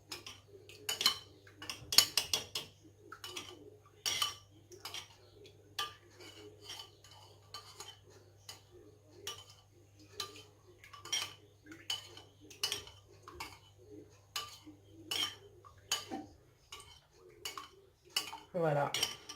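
A utensil stirs eggs and milk for African beignet batter in a bowl, clinking against the sides in quick, regular taps over a low steady hum, close and fairly quiet.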